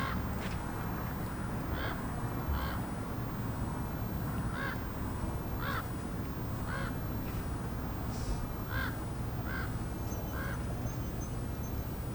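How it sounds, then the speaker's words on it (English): Repeated harsh cawing calls from large birds, spaced irregularly over a steady outdoor background, moderately distant. "These are big birds, though."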